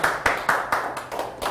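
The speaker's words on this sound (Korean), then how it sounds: "그런 희망을 갖고 있는 모두에게 뭐 박수 한번 보내실까요?" Applause from a lecture audience: a short burst of clapping with several distinct, evenly spaced sharp claps from a few hands, moderately close, with no talk over it.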